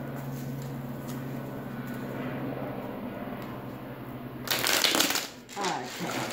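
Tarot cards are shuffled by hand, a brief burst of crisp riffling and flapping near the end, close and moderately loud over a steady low hum.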